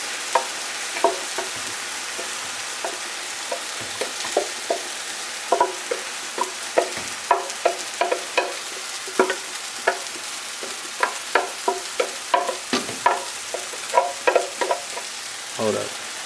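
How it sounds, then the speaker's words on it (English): Nopales frying in a pan for a vegan sofrito burrito: a steady sizzle under repeated sharp scrapes and clacks of stirring, close and fairly loud, with no talk. "Got the nopales cooking."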